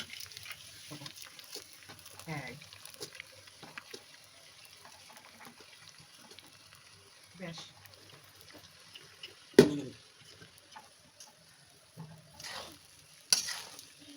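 Rice frying in ghee and oil with whole garam masala and bay leaves, with sugar added: soft crackling with intermittent scraping and stirring scrapes, a few sharper clatters, moderately close.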